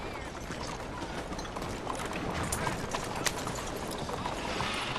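Hooves of Arthur's horse in Red Dead Redemption 2 clip-clopping in a steady, fairly close rhythm, with faint game ambience behind.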